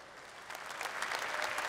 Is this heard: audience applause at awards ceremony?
yes